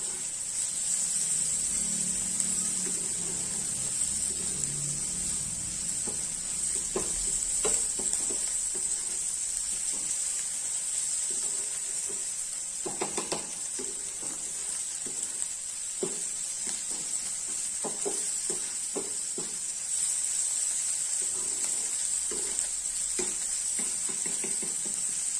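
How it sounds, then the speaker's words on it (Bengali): Minced garlic and ginger paste sizzling gently in a pan on a flame, a steady high frying hiss throughout with scattered soft scrapes and stirring knocks, no voices. "তো এটা হালকা ফ্রাই হচ্ছে"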